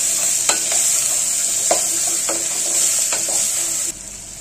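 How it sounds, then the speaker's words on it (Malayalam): Onions sauté loudly in a pan for beef curry, with a constant bright sizzle and several distinct spatula scrapes as they are stirred, before the frying noise drops off abruptly near the end. "എല്ലാം കൊണ്ട് ചേർത്ത് കൊടുത്ത് നല്ലപോലെ ഇളക്കി അതൊന്ന് വഴച്ച് കൊടുക്കണം"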